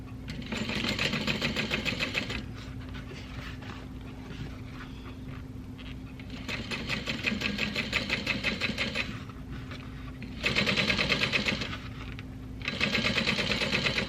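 A sewing machine stitches a handbag lining in several bursts of rapid, even needle chatter, each a few seconds long, with pauses between them where a low motor hum continues.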